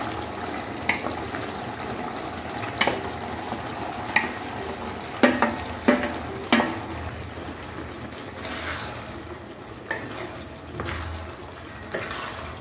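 Okra sizzles softly in a dhaba-style masala gravy, with a spoon scraping and clinking against the pan every few seconds, close and quiet.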